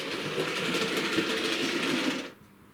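A small model train rattles steadily along its track toward Peco isolation switches with a busy clicking hum, then quickly fades away as it moves off.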